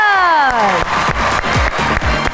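Loud applause from a studio audience welcoming the performers Babrik Shah and Rahat Bano Multanikar, mixed with cheering and a falling musical flourish at the start, as dense clapping fills the whole moment.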